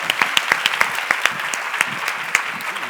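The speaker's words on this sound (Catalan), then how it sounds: "Un aplaudiment per Rock en Família!" Gala audience applauding the family rock show Rock en Família, a steady bed of crowd clapping with sharp individual claps popping out near the front.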